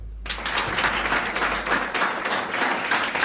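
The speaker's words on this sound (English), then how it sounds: "Give me a clap if you're from abroad." A comedy show audience in Poland breaks into a burst of clapping, many hands together in a dense, steady roar of applause that starts abruptly and carries on loudly throughout.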